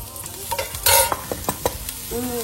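Shallots tipped into a hot pan for a fish curry, crackling and sizzling loudly up close as a utensil stirs them, with scraping clatters and bursts of frying.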